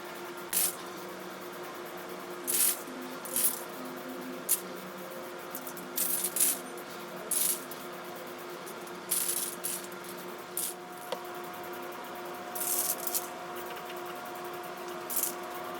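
Spray primer applied to a 3D-printed Mandalorian part, heard as repeated short aerosol hisses, about a dozen bursts of a second or so each, with pauses between, fairly faint against a steady low background hum.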